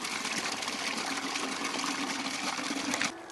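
Water running steadily into a pig waterer tank with a float, a dense continuous rushing and trickling that stays even and fairly loud, then eases slightly near the end.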